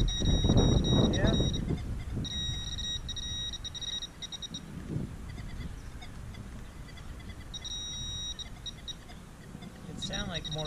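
A Nokta Makro Legend metal detector sounds over a buried target in a hole's sidewall, giving repeated bursts of high electronic beeping in three spaced groups over steady low outdoor rumble, with voices present.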